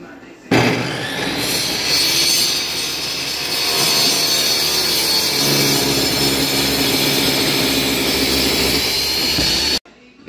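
Power saw cutting metal for a John Deere sickle mower pitman arm repair, a loud sustained grinding whine running steadily for about nine seconds before stopping abruptly.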